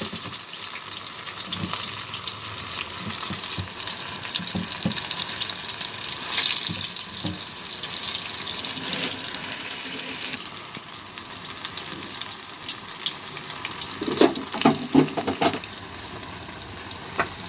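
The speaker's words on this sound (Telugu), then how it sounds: "ఒకటి ఆయిల్లో మెల్లిగా వేసుకోవాలండి" Mirchi bajji chillies frying in hot oil give a steady close-up sizzle, with denser bubbling crackles bursting out near the end. There is no talking.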